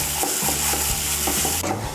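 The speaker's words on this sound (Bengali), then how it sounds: "মুগ ডালটাকে মশলার সঙ্গে ভালো করে মিশিয়ে নিয়ে মুগ ডালটাকে আমি ভালো করে ভেজে নেব" Mung dal mixed with spices frying in a hot pan, a loud continuous sizzle broken by several scraping stirs of a spatula, close up with no voices.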